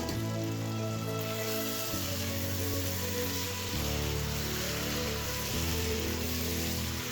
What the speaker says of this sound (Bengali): দেখতেই পাচ্ছেন আমি ভালো করে কিভাবে কষিয়ে নিচ্ছি।